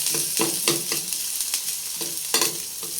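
Garlic and onion sautéing in a pan until browning, with close sizzling and repeated scraping stir strokes in an irregular rhythm.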